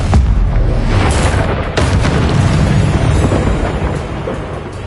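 Loud, rumbling blasts from the Confringo spell in Hogwarts Legacy, with a sharp burst near the start and another around the middle, followed by a sustained booming roar that slowly fades.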